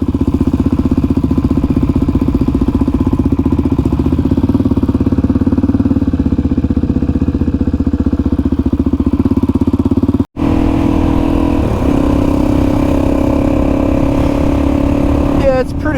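Motorcycle riding along an Outback dirt track beside the dingo fence, its engine droning loud and steady up close with wind rush, one brief cutout partway through, then continuing.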